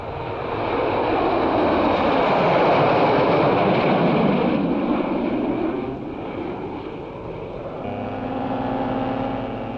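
A 1971-era aerobatic display aircraft roars loudly overhead, its engine noise swelling to a broad peak and then easing, before a steady lower drone takes over near the end.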